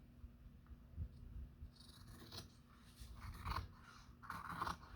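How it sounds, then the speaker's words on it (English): Scissors trim the edge of a book's hard cover for a junk journal in a quiet room, with a series of close, soft snips and scraping cuts coming in uneven bursts. "Okay, so let's just trim this side a little bit."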